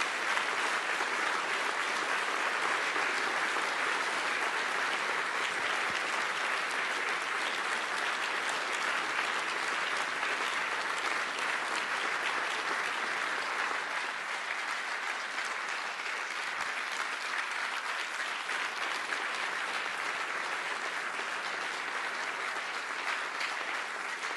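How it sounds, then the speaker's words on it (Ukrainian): Huge, sustained applause from a large crowd at an event in Warsaw, a dense steady roar of clapping that holds level throughout with no voices breaking through. "Сподіваюся, ви чуєте е, величезні оплески, які викликали ваші слова"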